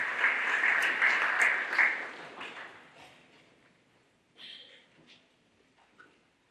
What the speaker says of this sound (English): Let's give a big warm round of applause.